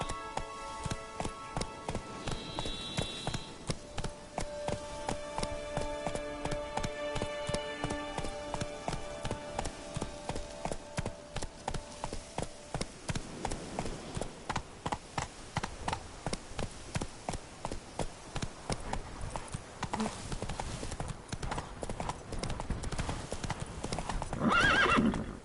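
Roach the horse from The Witcher 3 gallops with steady, close hoofbeats throughout, giving a whinny along the way, with background game music and a brief spoken line.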